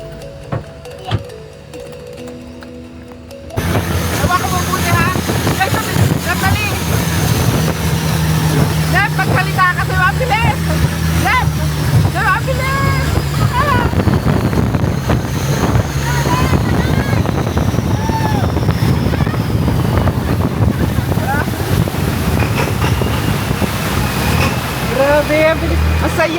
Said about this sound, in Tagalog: Sasakay na tayo sa bangka.